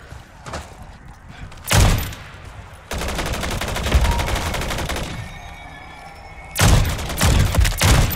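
Loud, close automatic gunfire in Call of Duty Modern Warfare 3 multiplayer or zombies, with short bursts and then a long sustained stream of rapid shots, plus booming impacts and some voices.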